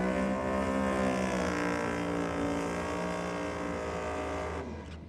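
A drag racing car at Sydney Dragway holds a loud, steady, deep engine roar at high revs, a continuous close burnout-style drone that fades slightly at the end.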